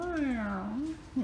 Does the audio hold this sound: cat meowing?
yes